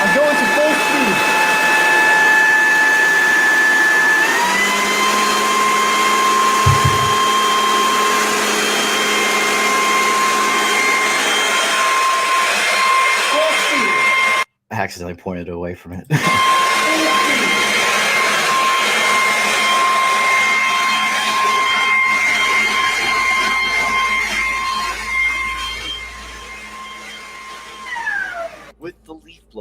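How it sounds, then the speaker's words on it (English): A leaf blower runs at full speed outdoors on a cold day, its loud, steady roar carrying a high whine. The sound cuts out briefly midway, then resumes, and someone talks over it. "With the leaf blower at full."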